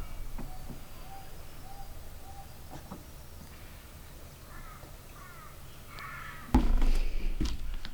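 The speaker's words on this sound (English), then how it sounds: "Here are the birdies." Crows caw in a garden setting, a few scattered calls at moderate distance over a soft ambient hiss, with a louder close burst of noise near the end.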